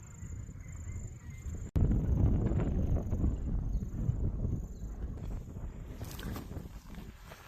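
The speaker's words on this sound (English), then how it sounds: "We're having a lovely little sail up into Bathurst Harbour now" A sailboat sails up into Bathurst Harbour, with rushing water along the hull and gusty wind noise, continuous and close, with a brief sharp cut partway through.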